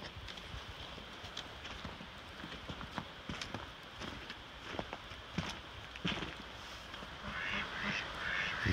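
Ducks quack outdoors in a snowy winter yard at a cabin, brief calls scattered over a steady wash of outdoor noise at moderate distance.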